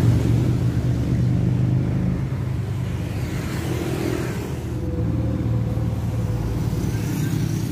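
Akas Asia intercity bus on the Surabaya–Madura route rolling past, a loud continuous engine rumble with shifting tone as it goes by, no speech.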